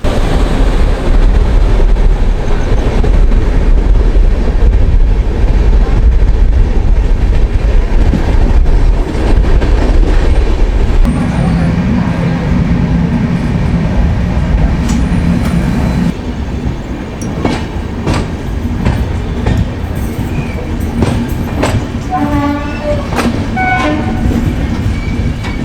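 Durg Puri Express running in India, recorded aboard: a loud, steady rumble of the train carries on throughout, with rail clatter, a change in tone partway through and a few sharp squeals and whistle-like tones toward the end.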